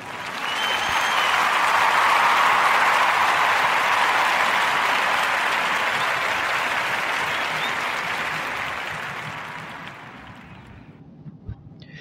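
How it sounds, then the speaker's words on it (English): A crowd gives a sustained round of applause at full, dense volume that swells, holds for several seconds, then gradually dies away to scattered claps. "Give her a round of applause."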